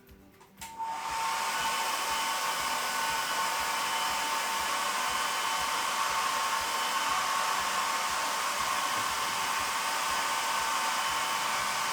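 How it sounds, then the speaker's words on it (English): A hair dryer switches on and then blows continuously, a loud, steady whirring rush of air that lasts to the end and is used to heat a bottle. "I'm going to use a hairdryer to"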